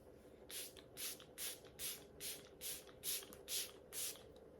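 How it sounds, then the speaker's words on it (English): Short bursts of a fine aerosol mist, about nine quick sprays of makeup setting spray onto a face in a steady rhythm, close up with no voices. "shake up this Milk Hydro Grip setting spray, and I'm just going to go ahead and spray my face"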